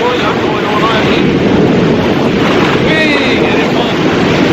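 Ocean waves wash around someone wading at Baler beach in the Philippines, with a steady loud roar of surf and wind buffeting the microphone throughout.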